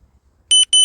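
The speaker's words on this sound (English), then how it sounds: "Listen for that beep." An exercise interval timer gives two short, loud electronic beeps in quick succession after a near-silent moment.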